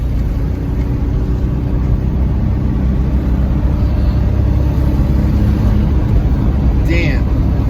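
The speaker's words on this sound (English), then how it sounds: "Man, that exhaust leak's worse. You hear it?" A running 2000 Ford Mustang engine with an exhaust leak gives a loud, steady, rough rumble heard from inside the car, continuous throughout with no breaks.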